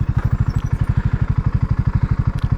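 A motorcycle engine idles steadily while the bike pulls into a roadside passing place in the Yorkshire countryside, a close, loud, even chugging pulse with no talking.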